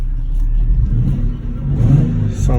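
A Nissan 370Z with a new loud exhaust revs repeatedly, its deep, throaty note rising and falling in a few close, loud blips.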